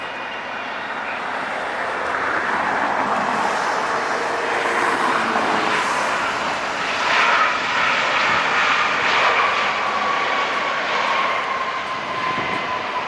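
An airliner lands at LAX with a long, loud jet roar that swells and holds as the thrust reversers and engines spool, steady and close for over ten seconds with no talk.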